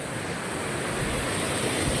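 Rushing water from a large waterfall with heavy flow, a steady broadband roar that stays loud and continuous throughout with no voices.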